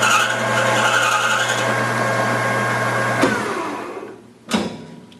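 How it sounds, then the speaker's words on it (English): A metal lathe runs steadily during an outside turning operation, a loud droning motor hum with a whining mechanical tone, then a sharp click, a dip as it slows, and a brief burst of noise near the end. "So I'll start the lathe."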